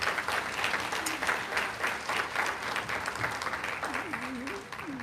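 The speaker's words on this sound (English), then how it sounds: "I want you to give yourself a round of applause for being selected as a VIP." Audience applause at a health careers summer internship closing ceremony in Hawaii, a dense, sustained clapping with faint voices mixed in.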